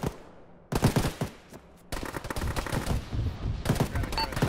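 Gunfire in the ArmA video game on the Chernarus map: sharp bursts of rapid automatic shots in several clusters, loud and fairly close, with short quiet gaps between the volleys.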